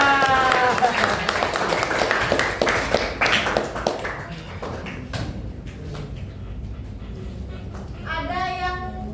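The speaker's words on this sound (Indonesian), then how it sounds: "Tepuk tangan buat teman-teman" Students in a classroom clapping for their classmates, a burst of many hands that fades over several seconds, followed by scattered claps and a voice speaking near the end.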